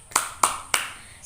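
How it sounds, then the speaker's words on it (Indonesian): Three sharp, evenly spaced claps from a class of children doing a rhythmic 'tepuk semangat' cheer in a school lesson, with a faint trace of voices in the background. "ibu mau anak-anak ibu semua tepuk semangat terlebih dahulu ya"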